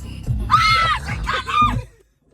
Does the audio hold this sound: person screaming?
yes